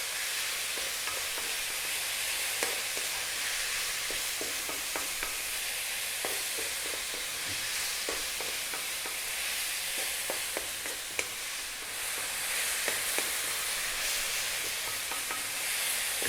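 Fried rice sizzles steadily in a wok over high heat, a continuous loud frying hiss with frequent scraping stir clicks throughout, no voices.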